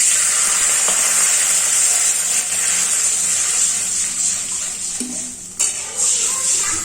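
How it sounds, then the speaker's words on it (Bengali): Water goes into hot ghee in a pan while sweet modak is prepared, giving a loud steady hiss and sizzle with a faint clink of utensils near the end and no talking. "এই ঘিটার মধ্যে এবার আমি একটু জল দিয়ে দেবো।"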